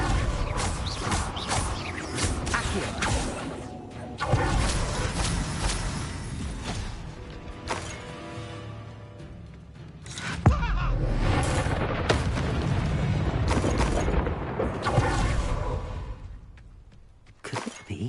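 A fire spell cast in a dark fantasy video game erupts as a loud, dense burst of crackling, shattering impacts and booming whooshes, continuing through a busy mix of combat effects with sharp hits near the middle.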